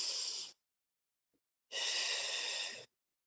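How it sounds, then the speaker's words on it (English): Two deep, breathy inhalations during a guided breathing exercise, each a steady airy rush with a short silent pause between, the second longer than the first, close and clear with no talking. "Take that deep breath in."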